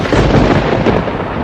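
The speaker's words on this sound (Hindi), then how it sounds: "ये बिना मौसम की गरजती हुई बारिश हमें क्या संकेत देती है?" Deep, continuous rumbling thunder from an unseasonal thunderstorm, loud and close, rolling steadily without a break.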